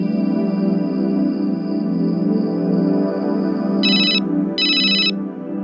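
A telephone ringtone sounds over a steady musical bed, with two loud bursts of ringing near the end while a call is placed.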